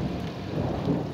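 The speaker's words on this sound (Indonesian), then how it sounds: "Ini di tempat Mbok sedang banyak hujan petir ya, teman-teman." A thunderstorm with rain near a kitchen: a continuous low rumble of thunder under steady pattering rain, fairly loud and close, with no speech.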